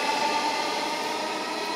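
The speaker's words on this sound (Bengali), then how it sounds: "মেট্রো ছুটছে উত্তরা উত্তর স্টেশনের দিকে" A Dhaka metro rail train runs toward Uttara North station, heard as a steady broadband rumble and hiss with a faint sustained tone, continuous and even, with no talking.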